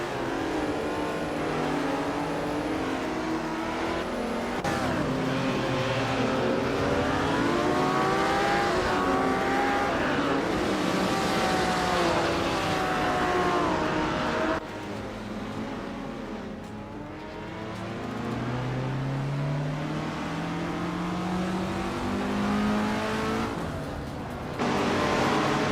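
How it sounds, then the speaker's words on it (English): Race car engines rev and accelerate continuously, including a 1964 Ferrari 275 GTB, with rising and falling engine pitch, loud and close, and occasional tire squeal as the cars pass. "Dale Earnhardt is driving a 1964 Ferrari 275 GTBC."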